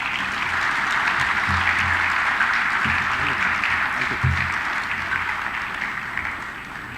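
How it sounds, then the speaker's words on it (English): Sustained applause from an outdoor audience at a military literature festival at Sukhna Lake, Chandigarh, steady and fairly loud throughout with a few louder bursts and a slight fade toward the end. "Give him a big cheer, please."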